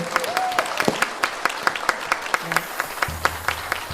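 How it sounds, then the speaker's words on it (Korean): Scattered audience applause at a memorial concert honoring poet Yun Dong-ju, sparse distinct claps in an uneven rhythm, with a brief vocal sound and a low hum in the background. "박수 한번 다시 보내주세요."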